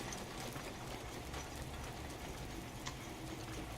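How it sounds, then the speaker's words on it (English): Steady rain hisses down in Breath of the Wild on the Nintendo Switch, a soft continuous patter of drops holding at an even, low level throughout, with no talking. "Man, this rain."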